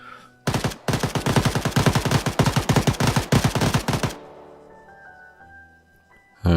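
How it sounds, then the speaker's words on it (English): Video game gunfire: a rapid automatic burst of about thirty evenly spaced loud shots lasting roughly four seconds, stopping abruptly and leaving a faint ringing tail, then a sudden loud sound at the very end. "How many bullets did you just fire at that?"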